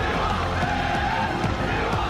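A crowd at a Call of Duty Black Ops 6 esports tournament match roars and cheers, a dense, loud, continuous wash of voices filling the whole moment.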